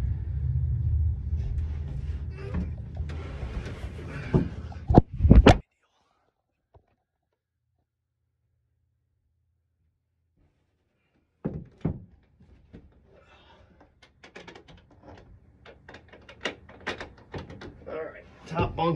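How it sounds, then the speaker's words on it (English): An enclosed 7x14 trailer wall being folded shut gives a few heavy thunks and a rattling clatter, then a long silence, then more scattered knocks and bumps, while a person talks quietly at times. "then I'm gonna fold this wall closed"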